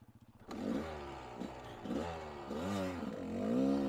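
A Kawasaki KDX 200 two-stroke motorcycle engine starts with a few kicks, then runs and revs in rising and falling bursts, close and fairly loud, with a brief rasping clatter between revs.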